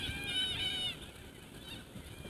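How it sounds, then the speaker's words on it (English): Black parrots call overhead in the open, a brief burst of harsh, tonal squawks in the first second, fairly distant over a steady background hum. "few black parrots going overhead."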